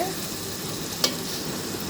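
Cumin, ginger and garlic paste frying in oil in a pan, a soft steady sizzle with light stirring scrapes and one brief utensil click midway.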